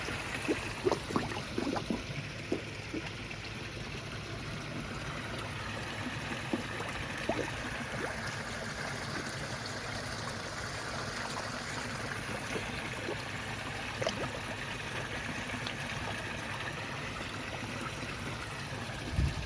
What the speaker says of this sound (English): A lot of filtration going on.